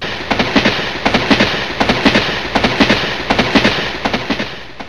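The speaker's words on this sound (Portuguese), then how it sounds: "o metrô que passava em alta velocidade naquele momento se aproxima" A subway train races in at high speed, its wheels hammering out loud, evenly spaced clacks in a quick repeating rhythm over a constant rumbling roar.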